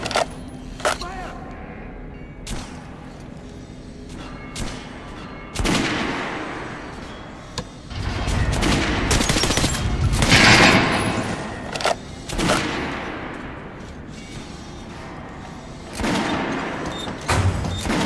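A gunfire volley in the video game Metro Last Light Redux: sharp bursts of rifle and automatic fire, some single cracks and some sustained rattling, with voices talking and shouting between the shots.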